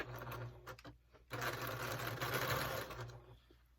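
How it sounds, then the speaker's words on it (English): A home sewing machine stitching the crotch seam of a pair of pants, a close rapid mechanical whir that starts in short bursts, then runs steadily for a couple of seconds before slowing to a stop. "Now I'm just going to simply sew the crotch area here and do the hemming."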